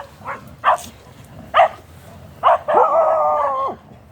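Several dogs bark in short bursts, then one draws out a long wavering howl, fairly close and loud over a low background hum.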